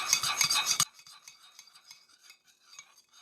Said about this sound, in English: we want to stir that in well